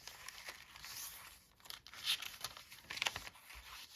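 Sheets of jelly print paper being handled and flipped in a handmade no-sew journal, a soft close-up crinkling and rustling with two sharper crisp crackles of paper.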